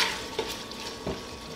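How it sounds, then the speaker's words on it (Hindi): Mutton fries in ghee with masala over a medium flame, a brief close sizzle with stirring scrapes and a couple of soft knocks in the pan. "गोश्त को मीडियम फ्लेम पर भूनते हुए मुझे 10 मिनट हो गए हैं।"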